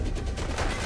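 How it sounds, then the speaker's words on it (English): A short, dense burst of rapid gunfire in the video game Fallout London, steady and moderately loud through the whole moment. "Right here to hide from the gunshots for a second."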